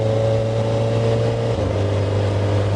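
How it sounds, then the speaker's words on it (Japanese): A Kawasaki ZX-4R four-cylinder, high-revving motorcycle engine drones steadily and close, its pitch dropping slightly partway through before holding steady again. "実はこの4気筒の高回転型エンジンの音に私が慣れていないというかですね"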